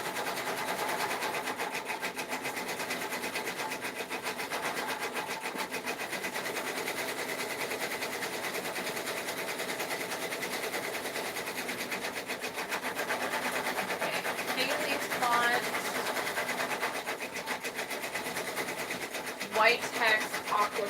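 A 12-needle embroidery machine stitching a custom Etsy order with white text and an aqua stethoscope design, a steady fast mechanical chatter running evenly throughout at moderate level.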